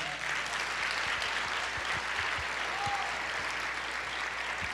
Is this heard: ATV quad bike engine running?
no